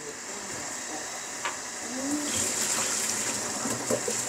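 Water from cooked pasta draining through a mesh strainer, a steady hissing gush that swells partway through and continues alone, fairly close.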